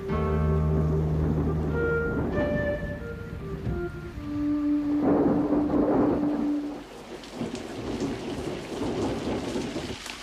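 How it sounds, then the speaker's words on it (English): A wet season storm in the bush brings steady rain pattering on surfaces and low rolling thunder, with tonal hums early on and no voices. "this rain's been hanging around coming and going all day"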